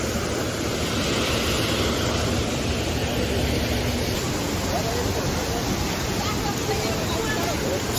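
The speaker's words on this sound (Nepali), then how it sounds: "यो चाहिँ डेभिस फल्स रहेछ" Davis Falls waterfall in Pokhara gives a dense, continuous roar of rushing water, loud and unbroken, with no pauses or distinct events.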